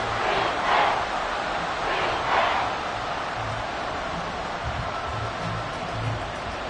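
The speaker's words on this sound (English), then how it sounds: "this crowd doing their best to make a lot of racket" Stadium crowd roaring in the Madden football video game, a continuous broad wash of cheering noise with swells early on, steady and fairly loud with no talk over it.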